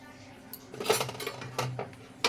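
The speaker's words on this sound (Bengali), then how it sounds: "এবার খুলে দেখে নেব ঢাকাটা" A lid comes off a pot of chicken biryani whose dough seal has been removed, giving a few metallic clinks and scrapes of cookware amid quiet kitchen sounds, with a voice speaking briefly.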